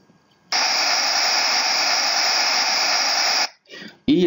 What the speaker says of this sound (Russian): есть розовый шум в стереорежиме.